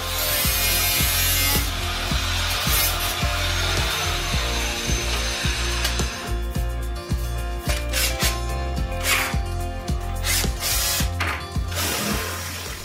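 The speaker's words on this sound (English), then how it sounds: "In the beginning I use a 50 mm hole saw" A power drill runs with a rough, rhythmic grinding as a 50 mm hole saw bites through a plastic tube, a steady loud mechanical churn with regular knocking pulses throughout.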